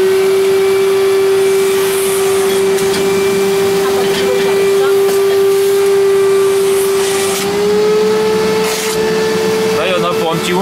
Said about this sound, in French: Donc là je vais aspirer tout ça à l'aspirateur. Aspirateur à eau.